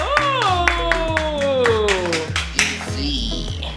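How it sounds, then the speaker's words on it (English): A family claps together in a home kitchen during cooking, a quick scattered round of hand claps mixed with excited oohing voices and a sung, drawn-out vocal tone. "let's give a round of applause"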